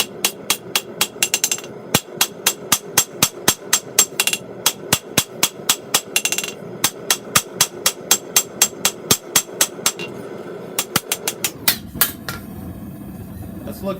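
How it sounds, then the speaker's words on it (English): Steel chef's knife blade being forged, struck by a hammer in a steady, loud series of sharp metallic blows, roughly two per second, ringing clearly with no talk until the hammering stops near the end. "Because we were hammering so much through here, it's made it expand in this direction."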